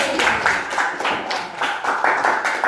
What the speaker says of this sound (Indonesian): Tepuk tangan untuk Nabil.